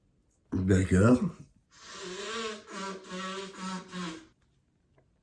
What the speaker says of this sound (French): ce que vous venez d'entendre, c'est mon cousin qui se mouche.